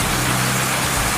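Water falls like heavy rain inside an aeration tower at a water treatment setup, a loud, steady, dense hiss of droplets with no pauses.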